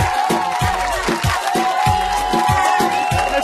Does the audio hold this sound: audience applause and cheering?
yes